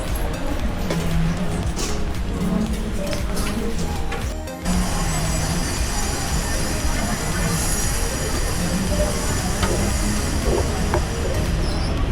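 A KRL electric commuter train in Jakarta rumbles steadily along with rattling carriage noise and occasional faint wheel squeals, loud and continuous from inside the car.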